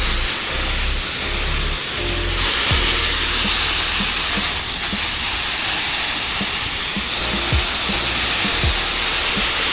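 A water spray rinses a giant metal barn wall during soft washing, making a continuous broad hiss with scattered faint knocks and clicks underneath and no speech.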